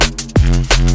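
Serum synth bass patch, a deep, heavy tone with a sharp downward pitch drop on one note, followed by a sustained growling low note, loud and without any voice.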